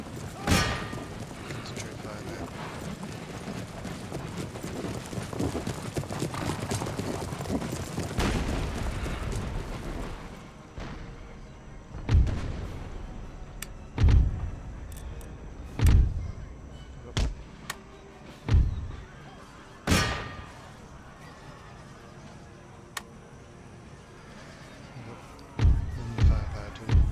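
Musket volleys and artillery fire in the strategy game Empire: Total War, during a 13 Colonies campaign battle: a dense, rumbling barrage at first, then separate loud booms and cracks spaced a second or two apart, with speech detected faintly beneath.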